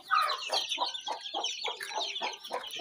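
A hen clucks in a steady run of soft, close clucks, with other birds chirping faintly in the background.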